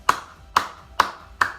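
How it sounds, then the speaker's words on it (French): Four sharp hand claps land at an even, slow pace, close and distinct with short gaps between them and no talking. "je pense qu'on peut s'applaudir"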